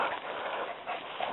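A hunting dog on a grouse hunt whimpers softly and continuously for about a second, close by with faint outdoor background.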